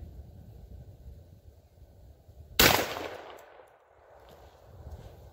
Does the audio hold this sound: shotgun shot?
yes